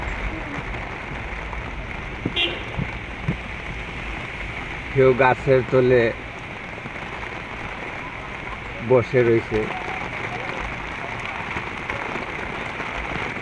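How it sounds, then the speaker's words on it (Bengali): Rain falls outdoors during a rickshaw ride, a steady close hiss under a voice, with two brief bursts of tonal honking partway through. "ঘুরতে বার হয়েছি, হঠাৎ করে বৃষ্টি চলে আসলো"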